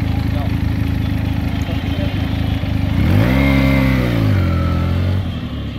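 A modified Benelli TNT 300 motorcycle engine idles with a rough low rumble, then revs up sharply and holds a rising, throaty note before easing back down, close by.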